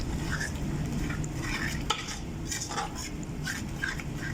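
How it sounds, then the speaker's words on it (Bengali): Arabic makbus spice and turmeric being stirred into rice in a pot, with continuous scraping and clinking of a spoon against the metal over a low sizzle, close and dense, with no talking. "এটাকে ভালো করে মিক্স করতে হবে যাতে মশলার ফ্লেভারটা না থাকে।"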